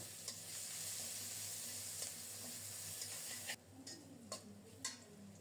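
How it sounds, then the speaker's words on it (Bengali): Black cumin seeds crackle in hot oil for tempering, a soft, even sizzle that thins out partway through, leaving quieter frying dotted with light clicks and taps from stirring. "এই তেলেই কালো জিরা ফোড়নে দেব।"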